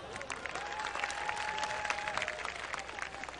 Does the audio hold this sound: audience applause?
yes